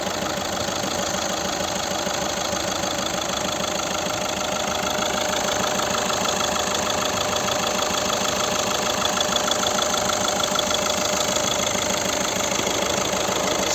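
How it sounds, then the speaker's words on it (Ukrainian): A 2011 VW Golf 6 1.6 diesel engine idles steadily and close by, a continuous knocking rumble with an even rhythm and no talking. "Ось робота двигуна."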